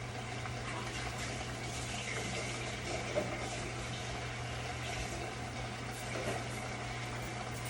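Water pours steadily into a measuring cup while cooking mop sauce, a continuous close, soft splashing rush over a low appliance hum, with no talking.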